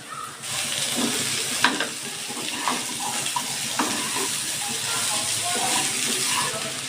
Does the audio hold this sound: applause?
no